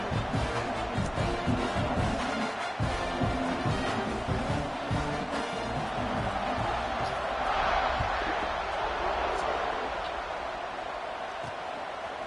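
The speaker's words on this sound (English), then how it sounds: "this crowd is buzzing after that last score" Stadium crowd in the College Football 26 video game, a continuous loud buzzing roar after a score with a faint swell partway through, steady beneath busy game sounds and some speech.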